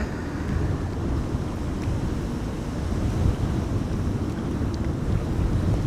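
Strong Storm Amy wind at Amsterdam Schiphol Airport: a steady, heavy rushing roar buffeting the microphone, continuous and loud for the whole stretch.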